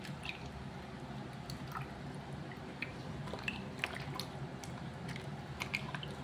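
Tilapia fish being washed by hand in water, with soft squishing, dripping and splashing sounds, close and steady, with small wet clicks scattered throughout.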